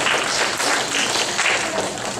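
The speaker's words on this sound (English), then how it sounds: "give yourself a big round of applause" A crowd claps steadily, a dense wash of applause that holds at full strength for the whole moment, fairly close.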